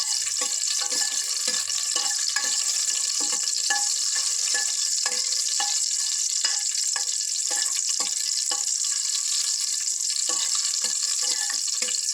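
Whole spices crackle and hiss steadily in hot peanut oil in a pan, a continuous close sizzle broken by faint scattered pops and occasional stirring.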